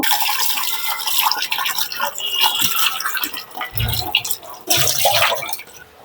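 Water splashes and trickles as seven local garlic bulbs are rinsed by hand, with irregular bursts of sloshing and dripping and a couple of louder pours.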